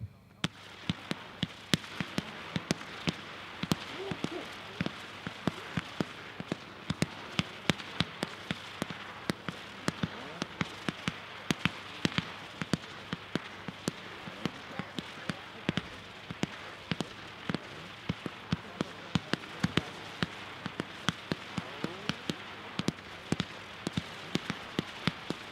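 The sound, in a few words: fireworks: 76 Pro 500 gram Go-Getter cakes, 49 shots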